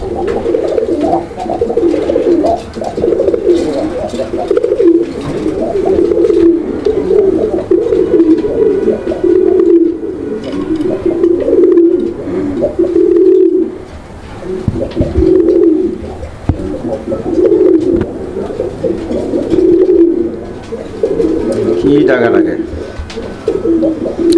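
Yellow Indian Mumbai breed pigeons coo steadily at a loft, deep rolling calls repeating every second or two throughout and close by, with voices talking faintly underneath.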